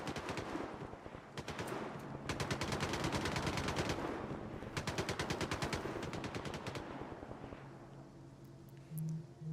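Gunfire in the video game Stalker: several long bursts of rapid automatic fire separated by brief pauses, loud and close, with no speech.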